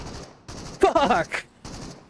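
Gunfire in the shooter Into the Radius: a few close, sharp shots cut in and out while a voice shouts excitedly in between.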